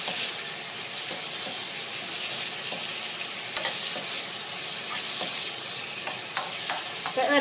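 Catfish stir-fried in an oily pan, a loud, steady sizzle with occasional sharp spatula scrapes and spatters.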